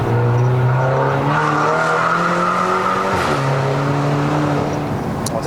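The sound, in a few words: BMW 320i F30 car accelerating hard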